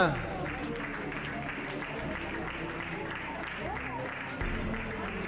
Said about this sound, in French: on peut les accueillir avec des chaleureux applaudissements